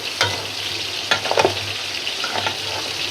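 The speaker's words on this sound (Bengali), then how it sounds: "পটলটা খুব সুন্দর করে কষা কষা হয়ে গেছে একদম ভাজা ভাজা করে তেল সেজে দিচ্ছি" Pointed gourd pieces sizzling in oil in a pan for a prawn and catfish bhuna, with a constant close crackle and a few sharp scrapes of a spatula stirring it.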